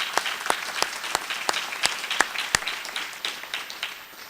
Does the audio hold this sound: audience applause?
yes